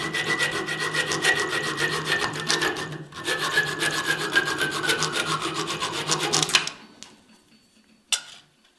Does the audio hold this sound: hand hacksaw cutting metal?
yes